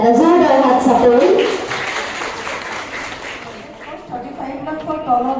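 Audience at a Women's Day event claps together in a broad wash of applause that swells in the middle and gradually thins, with a voice speaking over it at the start and end.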